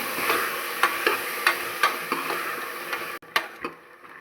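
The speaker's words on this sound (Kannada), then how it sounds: "ಇದ್ರ ಜೊತೆಗೇ ಆಲೂಗಡ್ಡೆ ಬದನೆಕಾಯಿನ ಹಾಕ್ತಾಯಿದ್ದೀನಿ. ಇದನ್ನೆಲ್ಲ ಸ್ವಲ್ಪ ಚೆನ್ನಾಗಿ ಫ್ರೈ ಮಾಡೋಣ ಎಣ್ಣೆಲಿ." Potato and brinjal fry in oil in a pan, a bright crackling sizzle broken by regular scraping strokes of a spatula, close and fairly loud, ending with a few final stirs.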